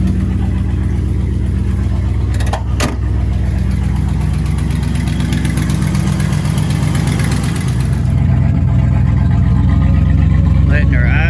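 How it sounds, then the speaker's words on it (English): A 1955 Buick Nailhead engine that has been overheating idles close by with a steady, deep, even rumble throughout, and someone talks over it. "Letting her idle until the temp comes up."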